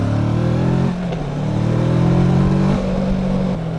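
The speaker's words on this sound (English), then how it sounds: "God, I hate cars!" A car engine revs loudly close by, its pitch rising and falling as it accelerates past, filling the whole moment with a steady droning roar.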